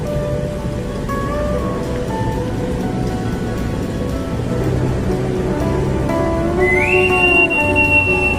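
At Bekasi station on a rainy Monday morning, a train conductor blows a sharp, high, sustained whistle near the end, over the steady wash of heavy rain and station noise.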